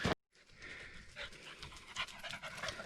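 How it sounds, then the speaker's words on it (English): A dog pants on a walk through the Nesque Gorges, quick rhythmic breathy huffs close to the microphone, fairly faint, continuing steadily after a brief sharp sound at the start. "if they do want to sponsor me to go on more walks with my lovely dog Scooby"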